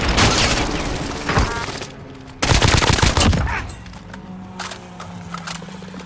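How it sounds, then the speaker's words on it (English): Video game shooter gunfire comes in loud bursts of rapid automatic shots, with a pause midway before another heavy volley and then quieter scattered shots. "He keeps shooting my shield."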